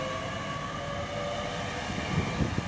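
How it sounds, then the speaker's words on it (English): A Great Western Railway train pulls out of Reading toward London Paddington, a steady mid-level rumble with faint tonal whine from the traction, ending in a few brief louder knocks as it gathers pace. "Leaving now is the 1212 Great Western Railway service to London Paddington."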